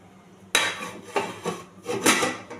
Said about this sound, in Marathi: आता गॅस थोडा स्लो करून ह्याच्यावरती आपण प्लेट ठेवूयात